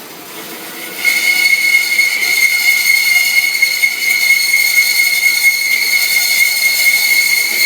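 A machine cuts metal at a 3/4-inch setting for a Chevy 4x4 bumper with a shot of coolant. After a brief lower hum, a loud, steady, high-pitched whine starts and holds without a break.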